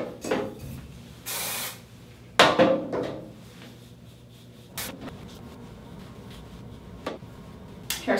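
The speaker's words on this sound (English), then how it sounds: "Hairspray." Hairspray hisses out in a short close burst, with a couple of briefer sprays and light rustling of hair and products around it in a quiet room.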